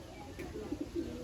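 A loft pigeon of the Malwai or Giribuz breed gives a short, soft run of low cooing pulses at close range, faint and brief, with no talk over it.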